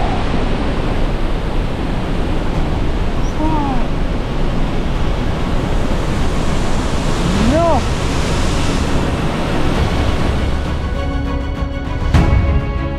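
Steady, dense roar of the Pailón del Diablo waterfall in Ecuador fills the whole stretch, broadband and loud, with a few faint chirps and a brief knock near the end.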